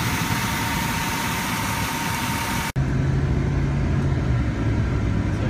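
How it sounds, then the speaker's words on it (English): A car engine hums steadily while driving, close and continuous, cutting out briefly midway before resuming with a low droning tone. "So here we are driving around"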